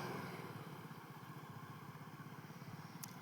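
Motorcycle engine rumbling steadily as bikes pass along a flooded road near a village: a faint, continuous low chugging with a regular pulsing throb, heard from a moderate distance.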